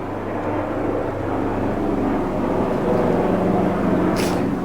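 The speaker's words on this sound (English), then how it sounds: "That's an awfully low-flying airplane." A low-flying airplane passes overhead as a steady, broad droning rumble that holds for several seconds, moderately loud with no talking.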